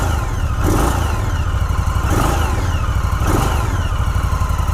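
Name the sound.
2018 Indian Scout Bobber motorcycle engine revving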